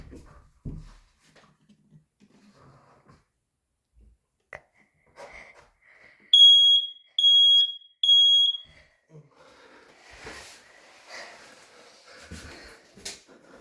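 A home smoke alarm sounds during a system test, giving three loud, piercing electronic beeps in a regular pattern, surrounded by quiet handling noises and a few clicks.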